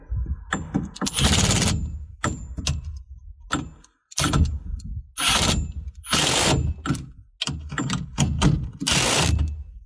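A ratchet wrench tightens the windshield mount bolt on a 2015-2021 Honda Pioneer, with loud, close bursts of rapid clicking that stop and start in repeated strokes.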